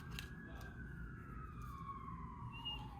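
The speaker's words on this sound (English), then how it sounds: "the siren is calling for someone" An emergency vehicle siren wails faintly in the distance outdoors, its pitch sliding slowly downward over a few seconds against a quiet background.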